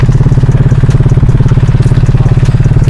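Motorcycles on a riding trip idle loudly nearby with a steady, rapid engine throb. The rumble stays even for a few seconds and no voices break in.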